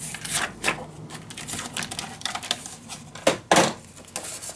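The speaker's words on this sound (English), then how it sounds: "Let's score and cut this piece." Paper for a scrapbook mini album is scored and cut, producing a series of close, sharp scraping and tapping strokes in an irregular rhythm, with a couple of louder snaps near the end.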